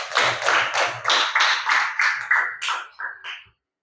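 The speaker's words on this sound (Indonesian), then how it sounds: "Beri tepuk tangan." Classroom students clap together in a steady rhythmic pattern of about ten sharp, close unison bursts that gradually soften before stopping.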